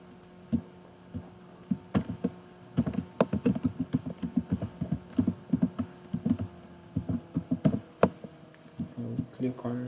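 Keys clack on a laptop keyboard as a username and password are entered, a close, fairly quiet run of irregular taps and brief bursts spread over about ten seconds.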